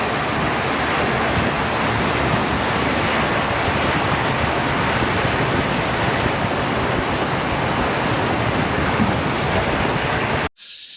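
A rising, swollen river in northern country rushes past in a dense, steady roar of flowing water, loud and close, broken by a short dropout near the end.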